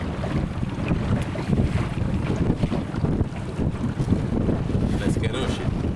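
Wind and large waves on the Danube in heavy fog, heard from a boat: a dense, rough rush of wind buffeting the microphone over sloshing water, loud and continuous throughout.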